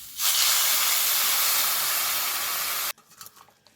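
Water pours into a hot pan of spiced fish and arum root curry, setting off a loud, sustained steaming hiss that cuts off abruptly into quiet kitchen clatter.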